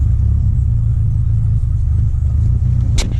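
A flooded Mitsubishi Evo's engine rumbles low and steady, a struggling, uneven drone that never builds boost, with a brief sharp knock near the end.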